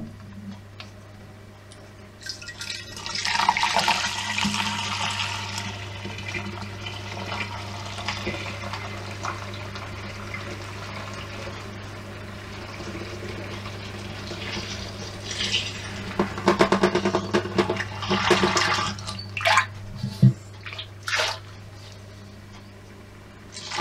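Coopers Mexican Cerveza homebrew wort poured into a Chubby fermenter, a steady liquid rush and splash running for most of the stretch alongside a constant low hum, with louder splashing bursts near the end.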